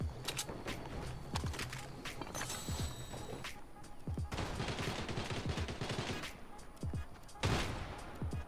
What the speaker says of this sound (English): sound of gunshots